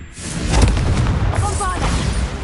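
Confringo blasting spell exploding in the game Hogwarts Legacy, a loud close boom with a rumbling burst and crackling debris over about two seconds, with a voice over it.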